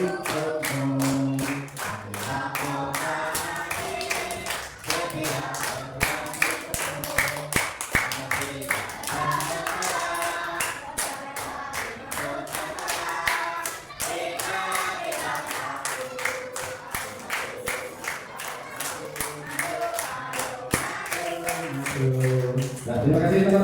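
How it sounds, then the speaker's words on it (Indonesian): A group claps along in rhythm as people sing the Indonesian patriotic song Garuda Pancasila in a classroom, with the steady hand claps and voices running together throughout. "Boleh sambil tepuk."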